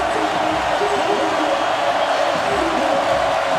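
A football stadium crowd at Florida's home game against Kentucky roars steadily through a third-and-long play, a dense, continuous wash of cheering that stays loud from start to finish.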